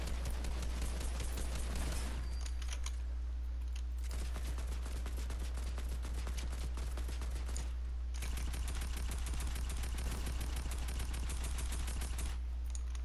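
Sustained automatic gunfire from a Fortnite squad match hammers away in quick repeated volleys, loud and close, pausing briefly a few times before firing again.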